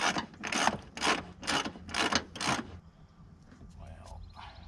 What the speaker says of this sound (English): I'll just tighten the upper bolts.